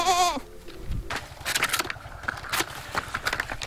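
A goat on a small sisal farm gives a sharp, wavering bleat at the start, followed by scattered rustling and shuffling of livestock nearby, moderately loud with no talking.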